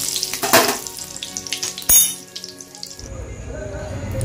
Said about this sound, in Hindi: अभी मेरा घी गरम हो गया है यहाँ पे डाल देंगे जीरा